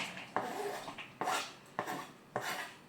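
Chocolate chips being mixed into cookie dough in a bowl, four scraping, clattering strokes of a utensil against the bowl at a steady pace, close and fairly quiet, with no talking.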